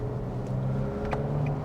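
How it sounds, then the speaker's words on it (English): Engine of a 2022 Nissan Navara Pro-4X Warrior by Premcar, a steady low diesel-like drone heard from inside or near the ute, running continuously at an even level with no talk over it. "The engine still sounds like a tractor"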